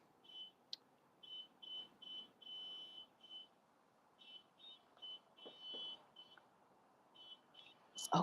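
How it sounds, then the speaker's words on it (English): A car alarm goes off out in an Oakland street, repeating rapid high beeping bursts in an irregular pattern, faint and distant with no talk over it. "Someone's car alarm is going off in the middle of the street."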